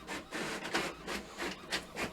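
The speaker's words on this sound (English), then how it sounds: "I'm not quite sure why my printer is printing out" A home printer prints out pages with a quiet, evenly spaced series of scraping, rubbing feed strokes, roughly seven passes in a steady rhythm and no voices.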